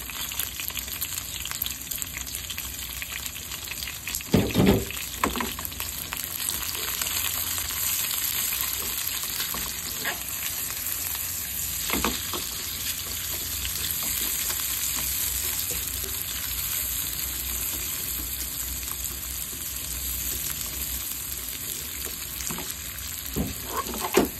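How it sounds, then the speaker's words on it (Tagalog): Onion and garlic sautéing in a pan for pancit guisado with udon noodles, a continuous close sizzle broken by occasional scrapes and knocks of a utensil, no talking. "Kaya muna natin siyang magisa. Sunod na natin ang sibuyas at bawang."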